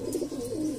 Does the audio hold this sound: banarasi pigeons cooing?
yes